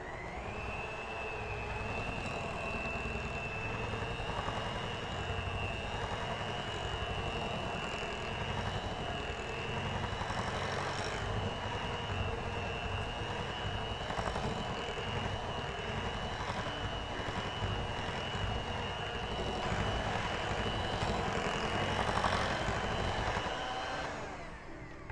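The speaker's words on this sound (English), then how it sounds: "back with the mixer on medium speed, and I will just mix it until everything is incorporated and it's smooth" An electric mixer runs on medium speed through no-bake cheesecake filling, giving a steady, continuous motor whine that holds an even pitch and loudness for the whole stretch, with no talking.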